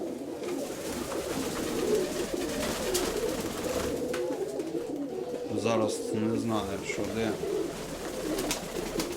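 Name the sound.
pigeons cooing, someone's fancy pigeons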